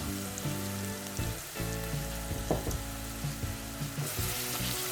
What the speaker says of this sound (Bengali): রসুন বাটাটা দিয়ে একটু একটু ভেজে নিতে হবে